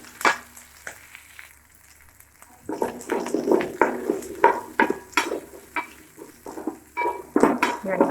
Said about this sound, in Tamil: வெங்காயம் நல்லா வறுக்கட்டும்